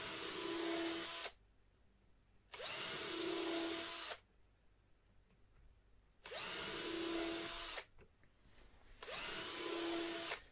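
Power drill enlarging the 3 mm bolt holes to 3.2 mm on a SLEC Sky 40 model plane kit, running in four separate bursts of about one and a half seconds each with quiet pauses between them.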